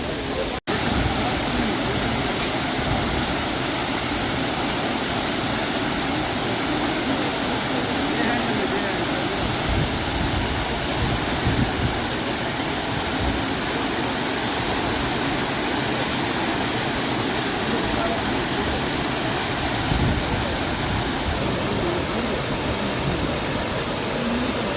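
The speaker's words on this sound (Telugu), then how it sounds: "ఈ రివర్, ఈ వాటర్ ఫాల్లో ప్రవహించేది డైరెక్ట్గా మనకి కావేరీలోకి వెళ్ళిపోతుందండి" Abbey Falls, a small waterfall in Coorg feeding into the Kaveri, pours with a constant, loud broadband roar that stays steady and unbroken throughout, close to the listener.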